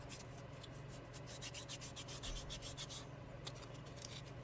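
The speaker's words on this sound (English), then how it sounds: "So just take some sandpaper and rough them" Sandpaper roughs up smooth hanging hearts in a run of quick back-and-forth strokes, a faint, close, dry scratching repeated in a steady rhythm over low background noise, with no voices.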